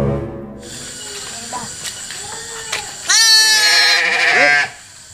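A sheep bleats loudly and close by, a long wavering cry near the end, while people talk throughout in the background.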